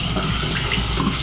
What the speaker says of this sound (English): So now I'm going to turn it back on at the angle stop underneath the sink